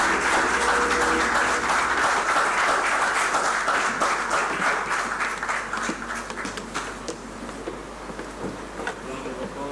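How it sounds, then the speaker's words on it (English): Theatre audience applauding after a stage excerpt, dense clapping at first that loosens into scattered claps and thins out, with some voices underneath. "Round of applause, ladies and gentlemen."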